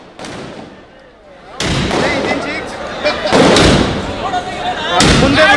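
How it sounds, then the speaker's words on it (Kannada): Firecrackers go off at a celebratory fan show for the Kannada film Bhairathi Ranagal: sharp, loud bursts about every two seconds ring out over a lively crowd, with voices talking throughout. "ಜೊತೆಗೆ ಪಟಾಕಿ ಸಿಡಿಸಿ ಸಂಭ್ರಮಿಸಿದರು"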